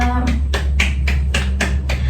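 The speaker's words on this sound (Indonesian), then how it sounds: "beri tepuk tangannya untuk Mbak Rahma" Classroom applause for a student during a micro-teaching lesson, several bursts of clapping at an even pulse over a low steady hum.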